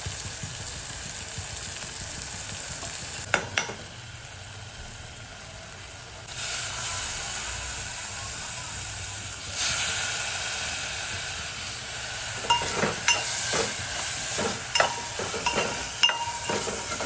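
Onion fries in oil with turmeric in a pan, giving a continuous close sizzling hiss that shifts in level a few times, with brief crackles and clatter toward the end and no talking.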